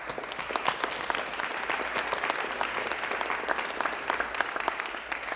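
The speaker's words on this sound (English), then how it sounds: "Let us give you a round of applause." A standing audience applauds at an arts community event: steady, dense clapping that fills the room from start to finish, close and full, with no voices.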